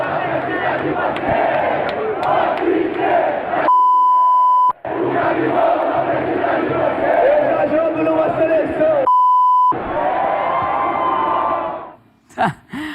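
A stadium crowd of Flamengo football fans roars a continuous chant, loud and massed, broken twice by a steady censor beep before fading out near the end.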